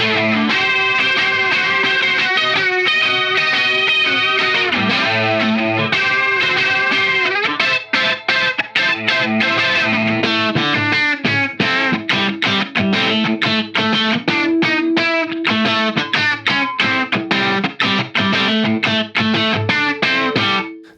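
Electric guitar played through effects, loud and continuous with distortion and chorus, moving from sustained chords into rapid, choppy strummed rhythm.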